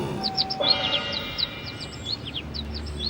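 Small bird chirping in a forest, a steady series of short high tweets repeating throughout, fairly close and clear over a quiet background.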